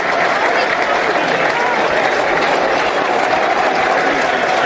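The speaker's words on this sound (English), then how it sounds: "Applause from the 59th minute" A stadium crowd at a Millwall versus Peterborough United football match applauds for late Millwall fan Ted Ayres, a dense, loud, sustained wash of clapping and crowd noise with voices mixed in throughout.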